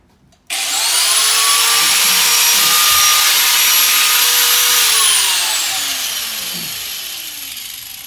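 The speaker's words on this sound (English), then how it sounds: "I'll just use the angle grinder" An angle grinder cutting into a school bus interior panel: a sudden loud start, then a sustained high whine that slowly winds down as it slows toward the end.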